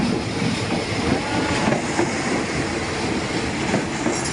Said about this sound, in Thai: รถไฟเข้ามาแล้ว